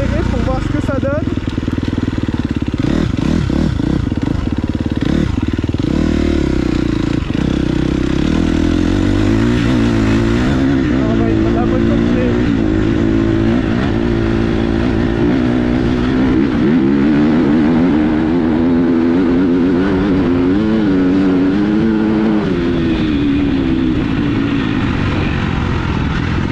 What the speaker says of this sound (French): Au retour, on va un peu plus accélérer pour voir ce que ça donne.